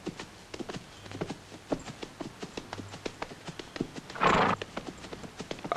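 Horse hooves clip-clop in a steady, close rhythm, and the horse gives a short snort or whinny partway through.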